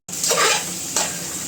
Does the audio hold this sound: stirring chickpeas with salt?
yes